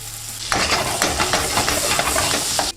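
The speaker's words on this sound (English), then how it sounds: "Now to cook the asparagus, in with the butter." Asparagus hitting melted butter in a hot pan bursts into a loud, crackling sizzle that stays dense and steady, with small stirring knocks, then cuts off abruptly near the end.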